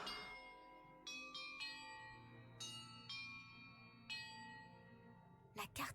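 Bells in Hogwarts Legacy ring one after another, bright sustained tones struck in a short sequence of about five distinct strikes with long ringing decays, followed by a brief burst of other noise at the end.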